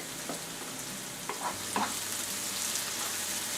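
Garlic frying in a little oil in a pan for a spinach pie filling, a steady soft sizzle with a few light scrapes and clicks of stirring, no voices.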